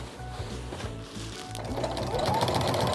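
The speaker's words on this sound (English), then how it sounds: "and then do a little bit more sewing" A sewing machine fitted with a walking foot quilts straight lines through fabric layers, running close and loud in short rhythmic bursts that become continuous, faster stitching toward the end.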